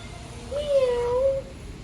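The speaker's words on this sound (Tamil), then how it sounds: "ஒரு பூனை இருக்கு" A cat near a temple near Kutralam gives one clear, drawn-out meow, close by, over faint background noise.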